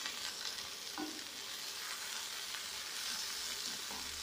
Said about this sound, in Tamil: இப்போது எல்லாத்தையும் நல்லா மிக்ஸ் பண்ணி வச்சுக்கலாம்.